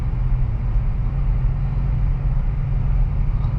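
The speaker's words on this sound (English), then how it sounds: "Let me downshift to second." A 2023 Acura Integra's engine pulls steadily after a downshift into second gear, a loud, continuous low rumble of road and motor noise with no break and no voices.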